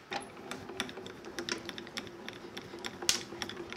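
A Grand Calibur die-cutting machine cranks cutting plates through, producing a quiet run of irregular clicks and ratcheting ticks with one sharper snap near the end, close by and faint overall.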